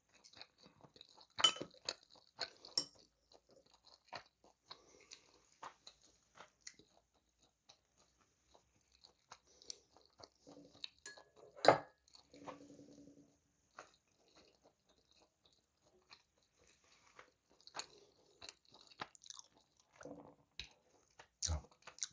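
Quiet close-up chewing and eating food, scattered soft crunches, clinks and wet squishes spread over a long, mostly hushed stretch.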